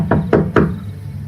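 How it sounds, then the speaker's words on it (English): Three hard knocks land on a building's front door in quick succession, loud and close, followed by quiet. "so I just knocked really hard."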